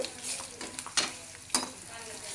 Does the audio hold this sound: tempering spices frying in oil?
yes